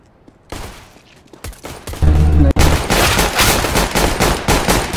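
Rapid bursts of gunfire from a Counter-Strike: Global Offensive match, a dense loud volley of repeated shots following a few quieter clicks and thumps.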